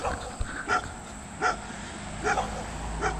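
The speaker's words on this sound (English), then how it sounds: "Sassy, you're barking at the wrong creature." A dog barks outdoors in short, sharp, evenly spaced yaps at moderate distance, four or five calls over a low background hum.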